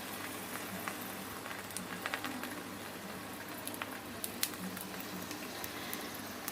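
A parotta fries on a hot pan with a faint, soft continuous sizzle and scattered tiny crackles and pops, quiet and steady throughout.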